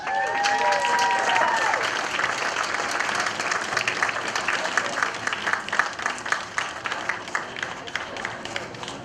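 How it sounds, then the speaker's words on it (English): A crowd applauding at a high school prom, loud dense clapping that fills the space and slowly thins toward the end, with a brief voice over the start. "Big round of applause for Amy Hurlage."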